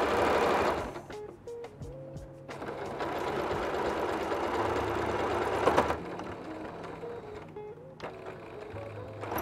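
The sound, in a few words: sewing machine stitching a batik tote bag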